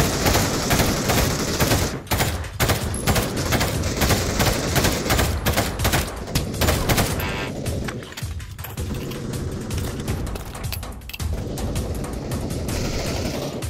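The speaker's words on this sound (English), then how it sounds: "Oh shit, taking fire from bank." Gunfire in the VR game Trouble in Terrorist Town: a continuous, loud wash of overlapping shots and rapid bursts that barely lets up for the whole stretch.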